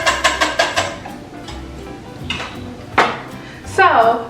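Quiche filling with kosher salt, black pepper and nutmeg whisked in a bowl, a quick run of rhythmic utensil taps against the bowl, then scattered clinks and a scrape, with a voice speaking near the end.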